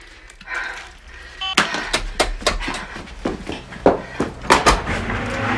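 A door is handled indoors in a domestic scene, giving a series of sharp knocks or bangs in an uneven rhythm, loud and close, with no talk.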